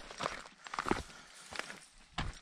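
Footsteps crunching through tall dry grass in Texas rangeland, quiet and close, a few irregular rustling, rattle-like steps with short pauses between them.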